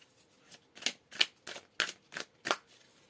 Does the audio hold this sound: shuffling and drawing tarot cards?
yes